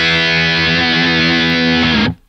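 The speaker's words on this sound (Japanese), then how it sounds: "ハイゲイン目の歪み。" High-gain distorted electric guitar through a multi-effects pedalboard, a single sustained crunchy chord ringing loud and close for about two seconds before being abruptly cut off.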